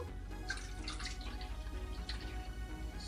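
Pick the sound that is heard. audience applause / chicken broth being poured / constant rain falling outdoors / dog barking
chicken broth being poured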